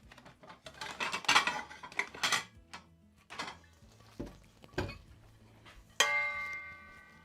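Kitchen dishes and metal cookware clatter and clink in several bursts while someone rummages for a colander, ending in a bright ringing clang of a metal pot or bowl that lingers.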